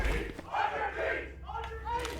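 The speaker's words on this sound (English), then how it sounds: "Listen to that crowd." Esports arena crowd cheering during a Valorant VCT Americas upper bracket match between Leviathan and 100 Thieves, a short, loud burst of roaring and shouting voices that swells and holds.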